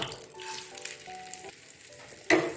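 Oats sizzle quietly as they fry in ghee, with faint crackling throughout. A sharp utensil clink sounds near the end.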